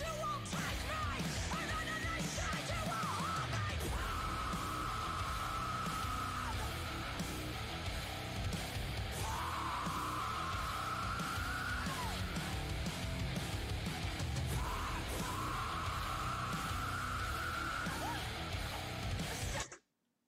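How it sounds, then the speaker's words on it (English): Female singer screaming and growling in the song, harsh sustained vocal wails repeating over loud, dense heavy metal instrumentation for about twenty seconds, then cutting out abruptly. "those screams and growls that she just did"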